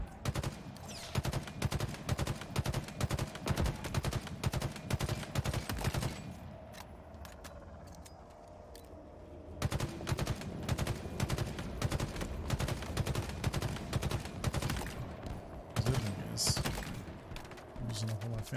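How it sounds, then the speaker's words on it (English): Rifle fire in the shooter Halo Infinite, long rapid bursts of loud automatic shots with a brief lull midway before firing resumes, under occasional talk. "I'm using a whole fancy rifle."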